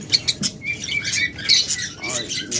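Caged pet lovebirds and budgerigars chirp in quick, bright, overlapping bursts, close and fairly loud, with no talking.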